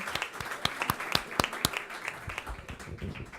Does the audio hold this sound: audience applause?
yes